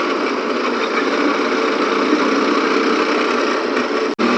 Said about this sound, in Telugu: ఇవన్నీ వెహికల్స్ ఎన్ని వెహికల్స్ వెళ్తున్నాయంటే చెప్తున్నా.